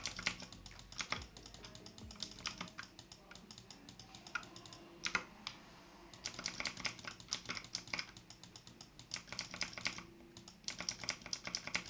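Rapid clicky typing on a HAVIT KB389L keyboard during a League of Legends game comes in dense bursts with short pauses, close and fairly quiet.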